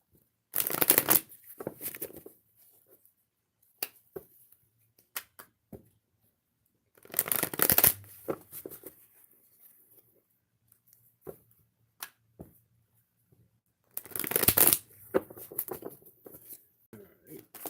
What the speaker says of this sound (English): Let's drop some tarot cards real quick.